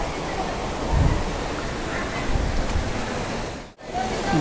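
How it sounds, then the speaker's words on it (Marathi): The Satsada waterfall pours down seven rocky steps between two valleys in the rainy Sahyadri hills, a dense, continuous roar of rushing water heard steadily from nearby. "सात पायऱ्यांमध्ये वाहणारा हा सातसडा धबधबा आपण पाहू शकता"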